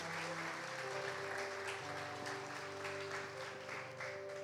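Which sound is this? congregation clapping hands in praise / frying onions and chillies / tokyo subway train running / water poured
congregation clapping hands in praise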